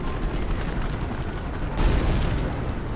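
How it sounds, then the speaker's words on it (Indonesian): A landmine blast in a war film rumbles as a dense, loud roar of low noise, swelling briefly partway through with no speech. "dan ledakan pun terjadi lagi."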